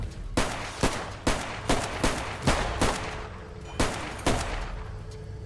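Gunfire from a gun in Teardown, a giant-robot map, rings out as a series of loud, sharp shots at an irregular rhythm of roughly one or two per second, close up and without talking.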